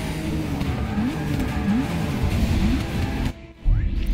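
A Ford GT '17 racing in Forza Motorsport 6, engine droning loudly with repeated rising gear-shift pulls, then a brief drop and a harsh surge as the car slides under braking.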